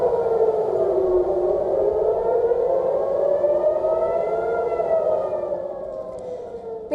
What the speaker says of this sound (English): air raid sirens and alerts rang out across Israel